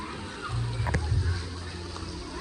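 Water from a fountain at a riverside holiday resort splashes and trickles steadily in the background, with a few louder splashes near the middle.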